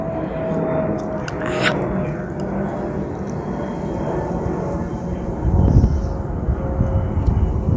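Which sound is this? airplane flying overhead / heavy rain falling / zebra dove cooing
airplane flying overhead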